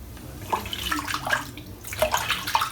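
Shaving soap being rinsed off with cold running water, a close, steady splashing and trickling with irregular bursts as hands scoop and wipe.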